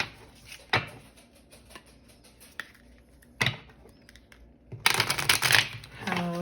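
Tarot cards are shuffled in a few short riffling bursts, with sharp isolated snaps early on and a denser flurry of card shuffling toward the end, close and moderately loud.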